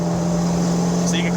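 A 1976 Alfa Romeo GTAm track car's engine holds a loud, steady droning note as it shifts into third gear at close range, with a brief higher whine near the end.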